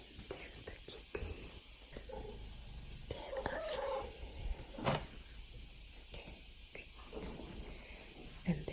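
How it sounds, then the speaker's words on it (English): A cat purrs softly nearby in a house, a low steady rumble running through the clip, with scattered faint clicks and small handling noises around it. "There's the kitty."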